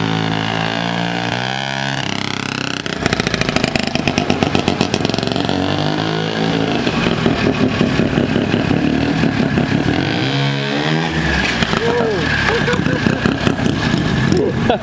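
A rotary-engine ATV runs loud and close on a test drive, its engine roaring and buzzing with rapid pulsing as it revs and pulls away. Voices are heard.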